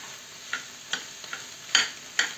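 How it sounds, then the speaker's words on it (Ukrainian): Boiled sauerkraut stews in oil in a pan, giving a quiet, steady sizzle broken by several soft, sharp crackling pops spaced irregularly. "їх і тепер додаю відварену квашену капусту. І будемо тушити її. О. На олії тушимо."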